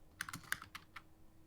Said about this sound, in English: mute yourself when you're typing